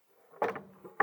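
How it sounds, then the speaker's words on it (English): Air filter hatch on an M103 tank being opened, a close metallic clunk followed by a short scrape and a second sharper knock, with no talking. "open the hatch"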